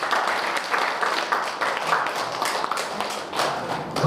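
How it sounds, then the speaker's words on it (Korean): Audience applause at a lecture on Korean royal palaces, a moderate, steady patter of hand claps from a seated crowd that carries on for several seconds. "박수 한번 쳐주세요."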